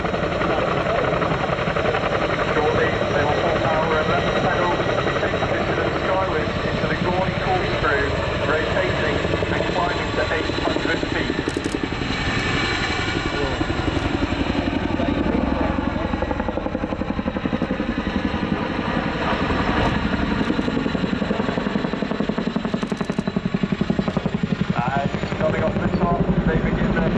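A Boeing Chinook helicopter of 18 Squadron flying its 2019 display at Cosford Airshow, a loud continuous rotor and engine roar that swells and shifts as it manoeuvres, with a public-address commentary voice running over it throughout.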